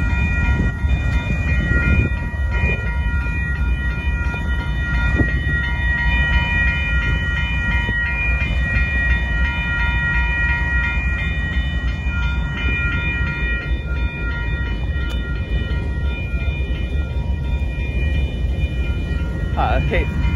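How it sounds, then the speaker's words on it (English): A southbound Amtrak Texas Eagle passenger train near Dittmar Road in Austin, Texas, gives a loud, continuous rail rumble with steady tonal whining layered over it for the whole stretch, close by. "The Amtrak is coming just past Matthews"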